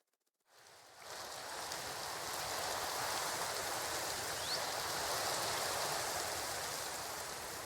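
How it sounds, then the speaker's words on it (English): Steady rain falls in Minecraft, starting suddenly and building into a constant even hiss of drops on the ground that carries on with no talk. "It started raining"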